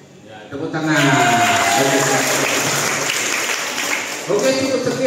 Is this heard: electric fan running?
no